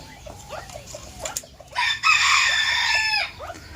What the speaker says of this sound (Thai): และนี้ก็เป็นตัวเมียไก่ฟ้าเยลโล่นะครับ